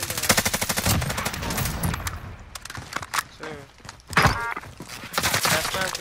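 Rapid bursts of video game gunfire crackle through a tactical shooter match around a concrete tower, loud and dense at first, thinning midway, then returning in sharp volleys as players talk over it.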